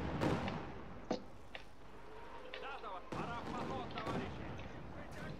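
A Katyusha rocket salvo in Company of Heroes 2, heard as a few booming launches and thuds scattered over a low battlefield rumble while someone speaks Russian.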